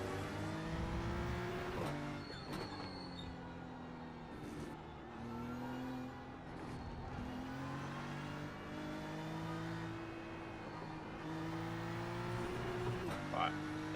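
A big BMW race car in iRacing on cold tyres, its engine droning and revving through repeated gear changes and throttle lifts, with tyre scrub under the engine and someone talking over it.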